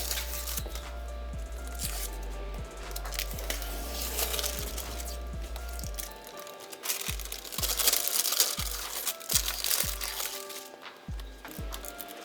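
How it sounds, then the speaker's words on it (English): Sticky backing paper is peeled off a sound deadening sheet and the material pressed down inside a Jeep JL trunk, giving close, continuous crinkling and crackling with repeated low thumps in the second half. "then peel off the rest of the backing, and then work my way from where it's already attached outwards,"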